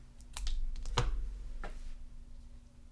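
Scissors snipping a small paper heart off a scrapbook sheet, a few close, crisp cuts and paper rustles over a quiet background.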